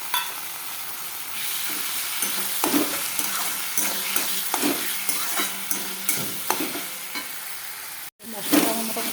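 A masala of onion, ginger and garlic paste sautéing in a pan, a continuous close sizzle broken by repeated scraping stirs at an irregular rhythm, with a brief dropout near the end.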